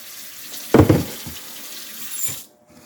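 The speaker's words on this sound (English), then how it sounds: "We'll cover these with hot water." Hot water runs from a kitchen tap to cover food, starting with a sudden splashing burst, then flowing steadily and close by for about two seconds before cutting off abruptly.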